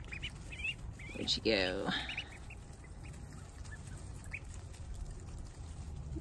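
Ducks quack briefly in a short burst near the start over a steady outdoor background, with a person speaking nearby.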